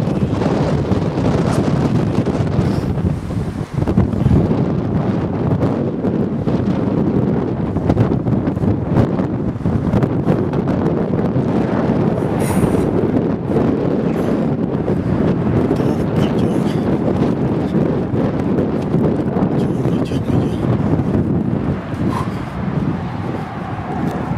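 Strong wind roars and buffets the microphone continuously, a dense, rumbling rush with no pauses, near a bridge in Croatia.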